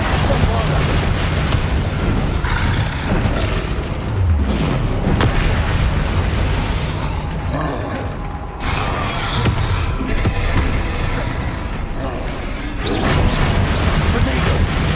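Spell explosions cast in Hogwarts Legacy, a continuous stream of booming blasts and crashing impacts filling the fight, with a voice talking over the action throughout.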